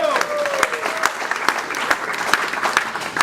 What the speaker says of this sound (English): may we please give an applause to TEM International School of Beauty.